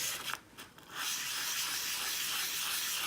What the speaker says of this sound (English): this is sandpaper for metal